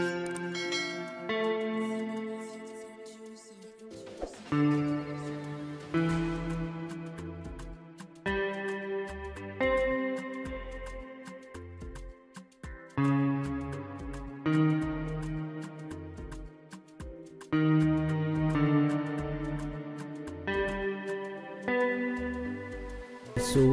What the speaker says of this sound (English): 4-1-5 progression, which sounds like this.